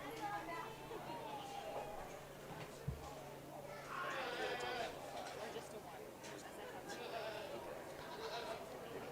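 Goats bleat at a county fair goat show in Las Animas County, a burst of bleating rising over a steady crowd murmur with scattered chatter throughout.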